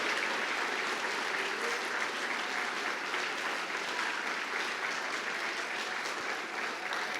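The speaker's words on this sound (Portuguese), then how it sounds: "Aplauda dando glória" A church congregation applauds steadily throughout, a dense, continuous wash of clapping that stays even in loudness from start to finish with no voices standing out.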